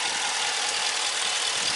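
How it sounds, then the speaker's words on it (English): A 2020 Dodge RAM 1500 Big Horn V8 idles up close in a steady, unbroken hum with a bright hissing edge, even in level throughout and free of any talk. "You see there's a V8,"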